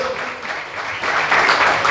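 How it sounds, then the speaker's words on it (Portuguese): A church congregation breaks into applause, a steady wash of clapping that swells in volume toward the end. "Pode aplaudir Jesus por isso?"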